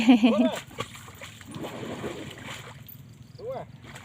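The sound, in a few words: water scooped and splashed while bathing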